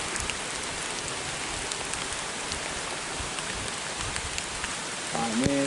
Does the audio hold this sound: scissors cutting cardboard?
no